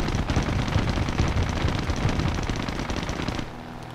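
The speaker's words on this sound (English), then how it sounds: "Dude, those bombs are so damn loud." War Thunder aircraft combat with a dense, continuous roar of rapid fire and rumbling blasts after bombs drop from a plane, loud and steady before easing off at the end.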